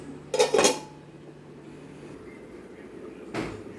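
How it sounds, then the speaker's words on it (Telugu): Metal lid clattering onto a cooking pot while making street-style tomato chutney, two quick bright clanks close together, then a softer knock a few seconds later, no talking. "కలుపుకున్నాక మూత పెట్టుకోండి"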